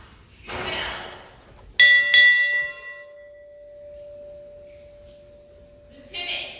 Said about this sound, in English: Sound, 2 bells.